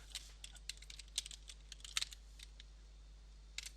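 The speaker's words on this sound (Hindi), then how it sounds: "यहाँ पे गूगल टाइप किया" Brief, light typing on a computer keyboard spells out a short word, a scattered run of quiet close taps followed by a pause and one last keystroke, with no one speaking.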